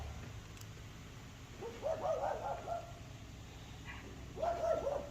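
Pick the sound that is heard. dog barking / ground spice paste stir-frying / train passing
dog barking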